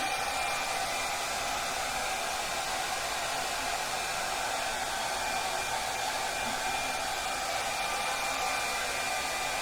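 A hair dryer blows steadily from start to finish, a constant loud airy whoosh with a high whine and no pauses.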